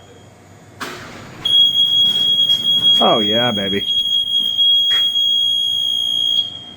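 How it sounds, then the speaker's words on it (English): A steady high-pitched alarm tone beeps continuously, loud and close, while a person speaks briefly over it. "That's an alarm?"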